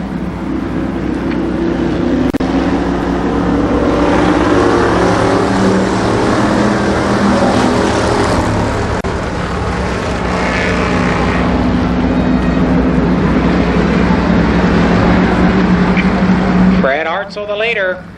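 Race cars roaring around the oval at Columbus Motor Speedway during a 1993 race, a loud, continuous engine drone filling the whole stretch, with an announcer talking over it and a brief change near the end.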